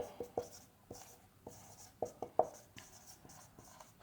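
A pen scratches across paper in short strokes with little taps, steady and close, as numbers are written out for a class 9 maths exercise; no talking over it.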